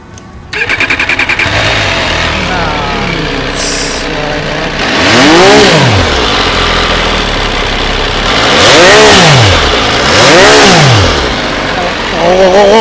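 An MV Agusta Superveloce 800 three-cylinder sport motorcycle starts up and idles, then is revved hard several times in rising and falling sweeps, loud and close, with people talking briefly nearby.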